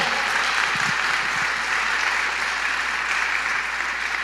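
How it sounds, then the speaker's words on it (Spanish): A church congregation applauds the Lord with dense, continuous clapping that fills the room evenly throughout, with no voices standing out. "Le damos un aplauso al Señor"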